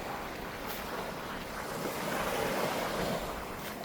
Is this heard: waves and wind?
yes